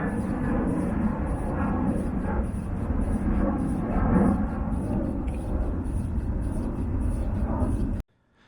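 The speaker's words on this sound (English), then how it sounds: "Well, it's also a plane" An airplane passing overhead while riding a bicycle, a continuous broad engine drone heard under heavy wind noise that cuts off abruptly near the end.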